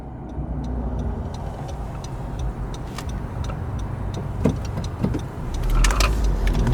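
A car moving through Miami traffic, heard from inside as a steady road rumble and engine drone with scattered small cabin clicks and rattles, swelling slightly toward the end.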